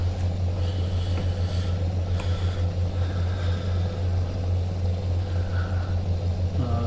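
A truck engine in Euro Truck Simulator 2, fitted with a sound mod, gives a steady, deep rumble that holds at an even loudness throughout with no break.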